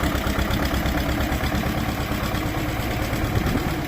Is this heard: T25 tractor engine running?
yes